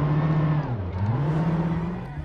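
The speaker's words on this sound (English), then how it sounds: "The engine sounds are weak, they're not very loud" Rally car engine in the rally video game SLRE, a steady droning hum that dips and rises in pitch with throttle changes, fairly quiet and thin, mixed with talk.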